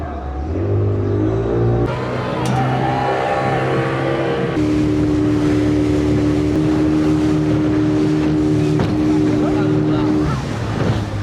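Speedboat cruising across the lake at Dream Holiday Park, its engine droning steadily and loud up close, the pitch shifting as it accelerates, with water rushing against the hull throughout.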